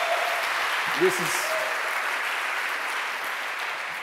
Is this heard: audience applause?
yes